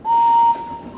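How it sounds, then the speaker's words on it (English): A steam engine whistle from a Thomas & Friends PC game sounds once, a loud clear steady tone held for about half a second, then fading into a faint hiss, with no talking. "My whistle sounds like this."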